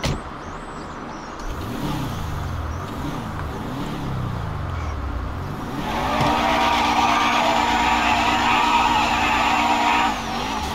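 Nissan GTR supercar in GTA 5 revving up through the gears toward top speed, a steady engine roar that rises in pitch in repeated sweeps, then settles into a sustained high drone, with no talk.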